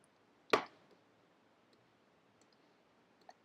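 A single sharp mouse click lands near the start, then near silence with a faint tick at the end, as a file is saved on a computer.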